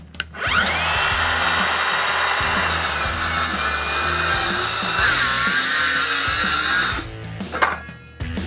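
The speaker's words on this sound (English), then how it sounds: "Making plunge cuts with your exact track saw is very simple and easy." A Worx ExacTrack saw makes a plunge cut into wood: a loud, steady, high whining cut runs for about six seconds right after start-up, then the blade spins down into scattered handling knocks.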